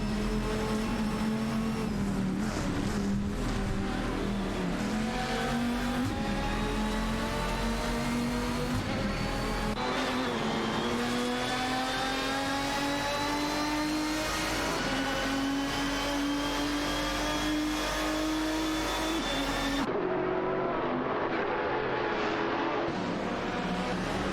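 Race cars in a video game, including a Porsche Carrera GTR and a Ferrari 575 GTC, engines droning loudly and steadily, the pitch rising slowly as they accelerate, then shifting abruptly near the end with no talking.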